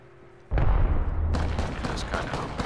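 Video game gunfire erupts suddenly into a loud burst of shots and booming reports, followed by a sharper second volley of repeated cracks that continues to the end.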